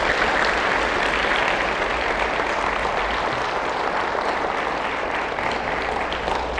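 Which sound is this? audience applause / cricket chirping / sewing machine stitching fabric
audience applause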